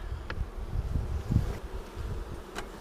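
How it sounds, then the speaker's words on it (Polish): Gentle Greek Astypalea honey bees buzz steadily nearby, a soft continuous drone with individual insects passing close now and then. "Naprawdę łagodne pszczoły."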